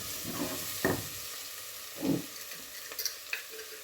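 Onions fry in a pan for a spicy tapioca and bone dish, a faint soft sizzle broken by a few stirring scrapes and clinks, with no talk.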